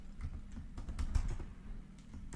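Keystrokes on a computer keyboard while entering Android Studio EditText code, a steady run of close, quiet clicks with slightly louder taps near the middle, alone without talk.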